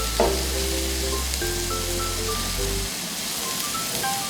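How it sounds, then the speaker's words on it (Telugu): Rice for mint biryani is added to a hot pot with a loud, steady sizzle and frying crackle, while game-like tonal beeps from a background tune drift over it. "ఇందులో రైస్ యాడ్ చేసుకోవాలి"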